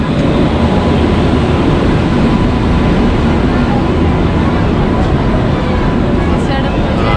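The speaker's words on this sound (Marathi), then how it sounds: "जनशताब्दी गाडी बरोबर टायमिंगवर आली" A steady loud rumble of a Jan Shatabdi passenger train arriving along the tracks, continuous and close, with faint crowd noise mixed in.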